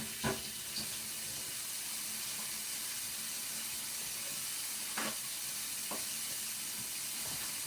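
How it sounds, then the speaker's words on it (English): A turkey burger patty searing in a pan on a stovetop, with a steady, broad sizzle throughout and a few sharp scrapes or clacks of a metal spatula near the start and middle. "We just sear it."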